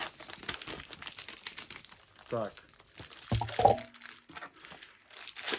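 Crinkling plastic and rustling as a yellow plastic mailer bag is handled and torn open, with a brief word spoken partway through.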